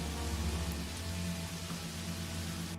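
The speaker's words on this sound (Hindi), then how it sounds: "थोड़ी बारिश भी हो जाती है" Rain falls steadily in a Hindi cartoon story set on a village farm, a dense, even hiss of drops with a faint low rumble underneath, continuous and fairly close for the whole stretch.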